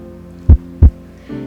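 Heartbeat sound effect in a short film: two deep, thudding beats in quick succession, close and loud over a low hum, followed by a faint tonal swell.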